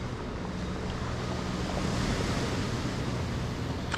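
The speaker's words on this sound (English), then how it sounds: "Listen to the waves crashing on the shore." Atlantic waves wash onto the shore beside a beach promenade at Playa de las Americas, Tenerife, making a steady broadband surf roar with some wind noise, heard on its own without speech.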